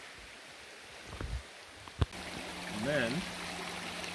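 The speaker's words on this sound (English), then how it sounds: "you walk up the brook to get to the waterfall" A brook on the trail up to a waterfall at Indigo Hills in Cape Breton, heard as a faint, steady wash of flowing water under a few brief spoken words.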